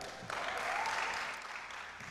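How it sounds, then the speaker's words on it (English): An audience at a science week event breaks into brief applause, a steady wash of clapping that rises quickly and tapers off within about two seconds. "You can clap."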